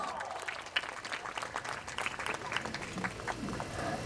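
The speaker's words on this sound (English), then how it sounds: "Give him a big round of applause." Applause from a school annual social gathering audience greets a guest, a fairly faint, scattered clapping from a crowd in a hall, steady with a few sharper claps standing out.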